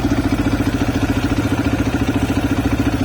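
A CSC RX3 motorcycle engine runs steadily and close, its loud rhythmic throb pulsing evenly, with the RPMs wavering only slightly and no one talking.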